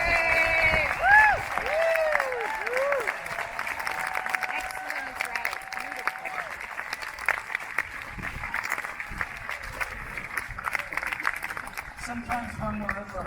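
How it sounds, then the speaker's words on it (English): An outdoor crowd applauds a young symphonic band at a Memorial Day concert at Green-Wood Cemetery in Brooklyn, with a thin, scattered patter of clapping, a few whistles and voices talking over it. "Just give all these fine young people a round of applause"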